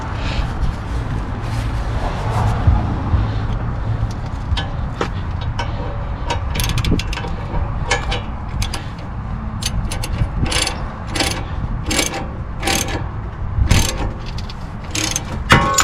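A socket wrench working to force a CV axle off a Honda Odyssey, giving rapid metallic ratcheting clicks and scraping mechanical noise. Clicks grow denser and sharper toward the end.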